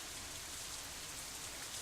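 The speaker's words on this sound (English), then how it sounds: "Yeah, what about the rain, Amy?" Steady rain falls throughout a scene in the visual novel Katawa Shoujo, a dense, even hiss of drops on surfaces with no breaks and no voices.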